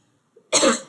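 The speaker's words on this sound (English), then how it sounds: "I just randomly started coughing" A single short, sharp cough from one person, close and fairly loud, preceded by a faint throat sound and standing alone in an otherwise quiet room.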